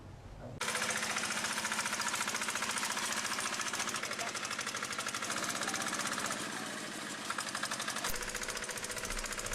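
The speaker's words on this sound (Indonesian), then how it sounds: "Petani tersebut membuat traktor pembajak sawah yang digerakkan dengan remote control." A remote-controlled rice field plowing tractor engine runs steadily and loudly, a dense rapid chugging clatter that starts abruptly and continues without pause, with a faint voice in the background.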